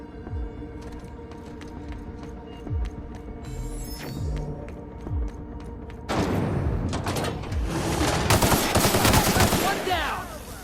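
Bursts of gunfire in The Outer Worlds, scattered single shots at first, then a dense, loud volley of rapid fire in the second half over steady game ambience.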